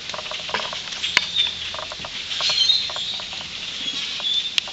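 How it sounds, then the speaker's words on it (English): Blackbirds feeding on beechnuts high in trees, with scattered light pattering and ticking as droppings and bits fall through the leaves, plus faint soft calls, all moderately quiet and irregular. "All these blackbirds came swarming in and landed up in these trees."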